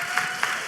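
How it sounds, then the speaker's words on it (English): A small audience claps in a brief, thin patter of a few hands, with faint rhythmic claps sounding moderately close. "Y'all clap it up for her."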